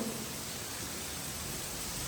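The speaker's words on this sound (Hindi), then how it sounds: "देखो पूरा वाइब है यार, बारिश वारिश फुल फ्लेज।" Rain falling steadily outside the sit-out area of a villa near Mumbai, heard as a dense, even hiss with no distinct drops or breaks.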